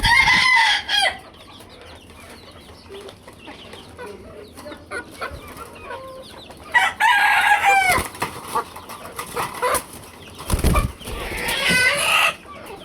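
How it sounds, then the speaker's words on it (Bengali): A white rooster crows and clucks in a coop with chicks, the calls rising in a few distinct bursts above a quiet, steady background, with no talking. "এই যে একটা মোরগ একবারে সাদা"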